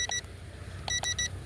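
A Drone X37 gives short electronic beeps to signal its speed mode, one beep and then a quick group of three, over a steady low motor hum.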